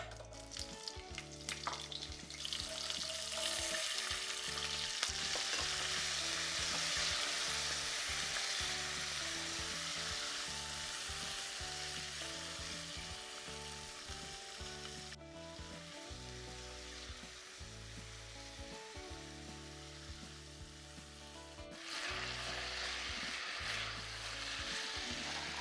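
Steady loud sizzling of cauliflower frying in a hot pan for Mumbai-style pav bhaji, with stirring noises throughout and music playing in the background.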